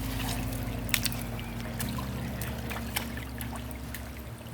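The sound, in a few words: river water overflowing past stacked rocks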